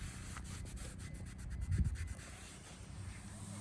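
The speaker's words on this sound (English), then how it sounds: "we're going to go ahead and just wipe this one down as well and get it nice and clean" A cloth rubs a clutch part clean on a Cobra McLeod RXT clutch job, soft scratchy wiping strokes that swell briefly in the middle then settle, close and fairly quiet.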